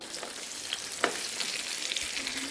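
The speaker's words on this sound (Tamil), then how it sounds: "தவாவை நல்லா ஹீட் பண்ணிவிட்டு அதில் மீன் தொண்டுகளை சேர்த்துக்கலாம்" Fish pieces fry in oil on a hot tawa with a steady, close, loud sizzle and crackle that holds throughout, marked by a few sharper pops.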